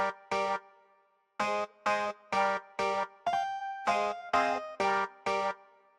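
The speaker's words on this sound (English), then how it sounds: "I grabbed this Strat Clav plus Wah just for some extra effects." A Strat Clav plus Wah synth patch plays a short rhythmic melody in an R&B beat, alone and fairly close: about ten clipped, bright chordal stabs in a syncopated pattern, with one sustained note slurred in the middle.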